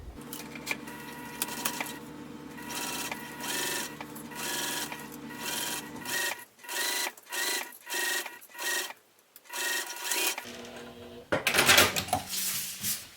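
A sewing machine runs a 1/8 inch basting seam, a mechanical whir that stops and restarts in short bursts, close and moderately quiet with small clicks and handling noises between runs.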